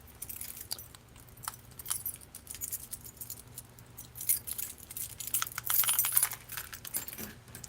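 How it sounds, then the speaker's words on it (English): A bunch of keys jangles and clinks repeatedly as they are handled and searched through, irregular metallic rattles close by, growing busier toward the end, with no talk. "let's find the keys."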